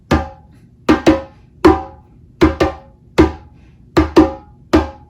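Hand drum struck in a faster groove, sharp resonant slaps and tones in a lively repeating pattern of single and paired hits, close and loud with quick decays and no voices.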